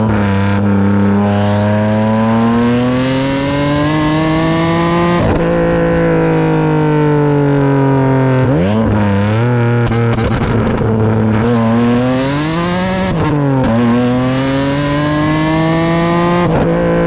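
A 540 hp single-turbo Nissan 350Z HR engine revs loudly and continuously, its pitch climbing and falling through several sharp blips in the middle before settling back to a steady high drone.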